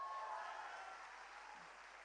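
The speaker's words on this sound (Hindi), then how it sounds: "एक बार चंडीगढ़ के लिए तालियां।" Quiet, distant applause from a business workshop audience in Chandigarh, a soft continuous patter of clapping that stays faint and even throughout.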